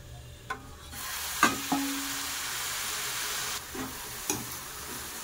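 Melted jaggery mixture is stirred in a pan over a steady sizzling hiss, with a few scraping knocks of the spoon against the pan, close and moderately loud, without any talk.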